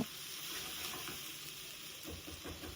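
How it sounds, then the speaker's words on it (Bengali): A raw rice and lentil mixture for khichuri sizzles and hisses as it fries in a hot pan, with occasional scraping from stirring. "দিয়ে দিব আমার চাল আর ডালের মিক্সচারটা, দিয়ে এটাকে ভালোভাবে ভেজে নিব"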